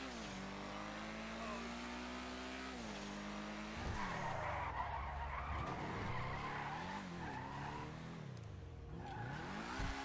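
Drifting car in GTA Online, engine whining and shifting pitch while tires skid and squeal almost continuously, loud and close, with revs rising and falling through the slides.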